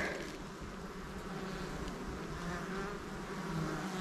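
A hornet hovers near beehives, giving a steady low buzzing drone close to the listener that holds for several seconds with faint surrounding insect hum and no talk.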